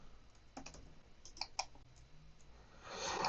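Quiet keyboard typing while entering a Netgear Nighthawk RAX30 router admin password, a few soft scattered key clicks close by, followed by a rising hiss at the end.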